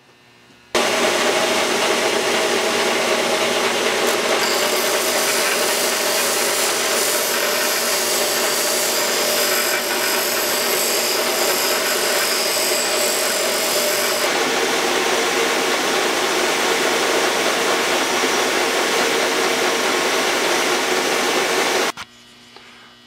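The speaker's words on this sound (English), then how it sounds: "we're going to start shaping this down then by hand" Continuous loud grinding and buzzing of a power tool shaping a wooden screwdriver handle, steady for about twenty seconds, then it cuts off.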